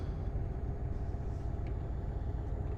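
Truck engine in Euro Truck Simulator 2 running as a steady low rumble, droning evenly and fairly quietly throughout with no distinct rev peaks.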